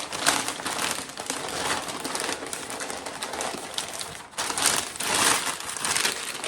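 Packaging paper is crumpled and scrunched by hand to wrap ceramics for shipping, giving a continuous close crackling with a brief pause before it resumes.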